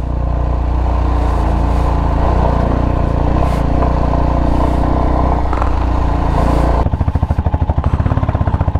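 Motorcycle engine labouring up a steep mountain road on a trip to Leh, a loud, steady close-up drone that shifts near the end into a rougher, pulsing chug.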